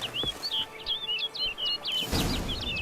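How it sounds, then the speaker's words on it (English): In the fantasy video game The Witcher 3: Blood and Wine, a songbird gives a steady run of bright, repeated chirps over quiet ambient background. A soft rustling whoosh comes near the end. "Looks like the bird's leading me somewhere."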